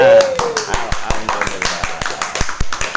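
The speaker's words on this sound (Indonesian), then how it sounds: "Nah, tepuk tangan semuanya." Schoolchildren in an Islamic studies classroom clap their hands together in a loose, fairly regular rhythm of sharp close claps after a chant, with some voices and noise mixed in.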